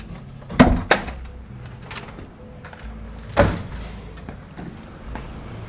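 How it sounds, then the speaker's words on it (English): A door closing inside an abandoned school building in the Australian outback, a couple of sharp knocks followed by a louder, close bang with some rattling. "we'll close this door."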